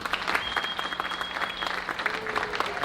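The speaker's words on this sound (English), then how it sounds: "Give a round of applause." An audience applauds an improv theater troupe, the Improvateers, with dense, steady clapping that fills the room and carries on without a break.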